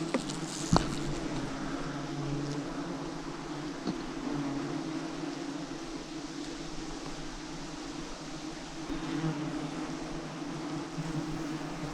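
Bees buzz steadily around a bear bait site in the woods, a continuous close drone for the whole stretch with a couple of faint clicks and no talking.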